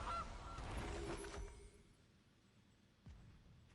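A goose honks from a Magic: The Gathering digital game: one loud, brassy honk, then a quieter second honk about three seconds later, with near silence between them.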